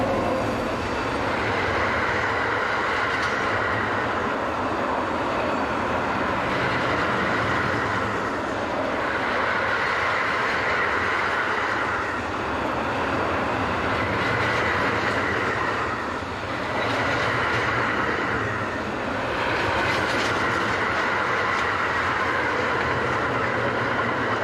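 A long freight train of mega combi boxes, hauled by an electric locomotive, rumbles past steadily, with rolling wagon noise swelling and fading in regular waves, loud and close throughout.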